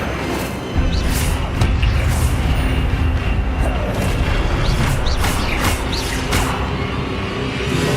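A rushing, roaring burst of spell fire in Hogwarts Legacy begins after a short pause and holds loud and steady, with scattered crackles and faint clicks.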